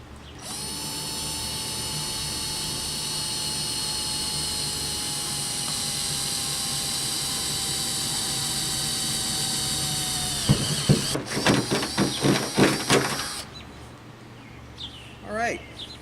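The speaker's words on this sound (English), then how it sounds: "The hole that we just drilled with that stepper bit" A power drill with a step bit whines steadily at high pitch for about ten seconds cutting through a car roof, then stops, followed by several clattering knocks and brief handling noises.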